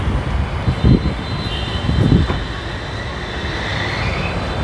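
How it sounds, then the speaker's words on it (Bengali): A Nissan X-Trail with a 2000 cc petrol engine idles steadily after a push-button start, a low continuous hum close by with a couple of brief thumps early on. "পুশ স্টার্ট গাড়ি।"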